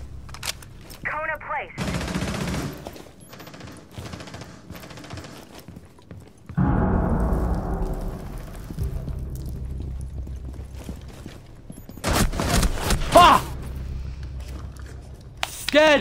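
Gunfire in Rainbow Six Siege, heard as bursts of rapid shots and a loud burst with lingering rumble, mixed with game sound effects and brief voice chatter between them.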